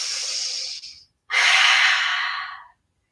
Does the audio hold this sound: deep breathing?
yes